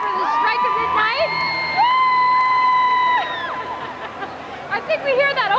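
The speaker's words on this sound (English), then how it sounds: "It's the cheer for 2000, and here it's just as loud as ever." A large crowd at a New Year 2000 midnight celebration with a live stage show cheers and whoops loudly, with sustained shouting voices rising and falling in a continuous roar.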